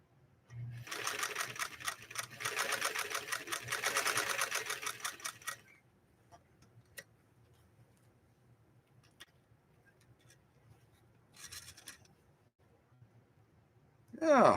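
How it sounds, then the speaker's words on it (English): A Spartan sewing machine stitches through two layers of vinyl paper in a steady, fast mechanical whir lasting several seconds. It stops, and a shorter second burst of stitching follows later in a quiet room. "We'll lay down a stitch on there and see what we think of that."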